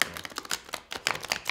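Tarot cards being shuffled by hand in a loose, quick shuffle, giving a rapid run of close, crisp flicking and riffling clicks with brief pauses, no voices.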